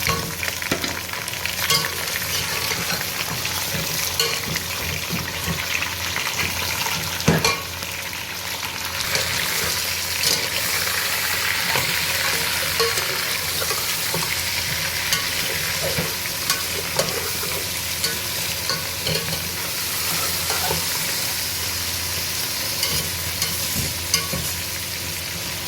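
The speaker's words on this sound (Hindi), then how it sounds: "ले गाइस, अब हम डालने लगे चिकन।" Chicken frying with light-browned onions for a biryani, stirred in a pot: a long, dense sizzle with frequent scraping strokes and occasional knocks against the pan, steady throughout.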